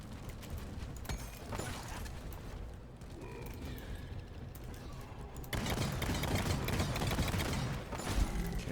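Rapid gunfire from Arbalest and Lacerator weapons in the video game Deep Rock Galactic, a dense continuous clatter that swells louder in the second half amid mechanical game noise.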